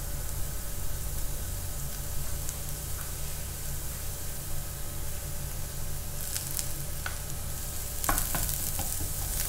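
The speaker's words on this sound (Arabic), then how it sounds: "حنكشن البصل الين ما يبدا يذبل معايا" Finely minced onion and mashed garlic sauté in oil in a pot, giving a steady close sizzle throughout, with occasional stirring scrapes and clinks near the end.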